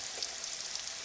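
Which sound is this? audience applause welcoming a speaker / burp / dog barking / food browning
food browning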